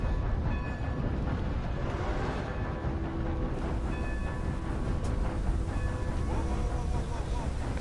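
A train rolls past at a railroad crossing in the video game Red Dead Redemption 2, a steady close rumble of wheels and cars that holds for the whole stretch, with a faint voice now and then underneath.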